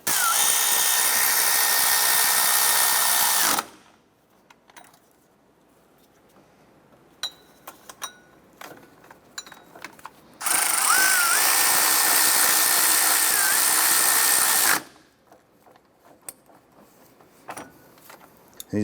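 A power tool tightens water pump bolts on a 2008–2012 Honda Accord in two loud, sustained bursts of a few seconds each, with quieter clinks and tool handling between and after them.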